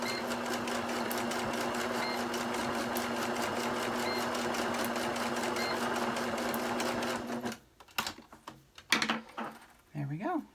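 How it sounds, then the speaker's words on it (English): A sewing machine stitches back and forth across a fabric heart with a fast, even mechanical whir and rapid needle clatter, close and steady for several seconds, then it stops and leaves a few softer handling clicks and rustles. "stitch back and forth in the middle of the heart"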